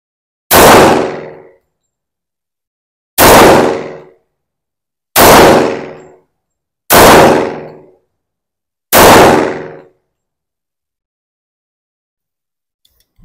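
A Springfield Armory Ronin .45 caliber pistol fires five loud, sharp shots, spaced a couple of seconds apart, each with a short ringing decay and silence between, with no talking.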